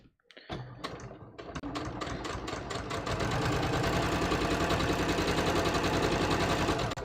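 Sewing machine stitching nappy fabric at a 3.5 stitch length, starting with a few slow separate stitches and speeding into a fast, even, close mechanical chatter that runs for several seconds, no talking.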